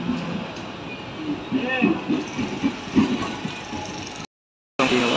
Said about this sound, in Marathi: प्लॅटफॉर्म क्रमांक 1 वर ट्रेन आलेली आहे.